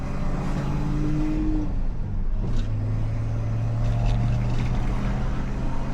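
A 1966 Plymouth Barracuda on a test drive, its engine droning steadily with the pitch dropping partway through as it shifts gears, a continuous loud hum with road noise.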